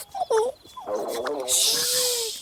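A cartoon stomach rumbles in a long gurgling, warbling growl that rises and wobbles, followed by a hissing burst, with brief spoken exclamations just before it.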